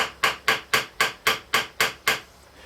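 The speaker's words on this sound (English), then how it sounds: "So I'm just going to hammer these in just randomly around here." A hammer drives small escutcheon pins into wood with eight sharp, evenly spaced taps, close and crisp, about four per second, with nothing else heard.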